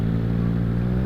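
A Triumph Street Triple R motorcycle idles and revs through its exhaust with a loud, close, throaty rumble that holds steady through the short moment.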